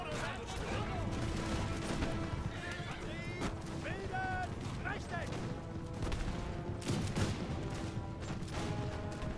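Rolling musket volleys and scattered gunfire crackle through a Napoleon Total War online battle, mixed with distant crowd and horse clamor, while someone speaks over the continuous noise.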